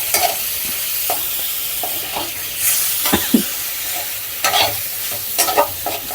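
Marinated prawns tossed into a hot fried spice masala for a Goan-style tender coconut prawn dish, sizzling steadily with scraping stirs and bursts of spattering, close and alone.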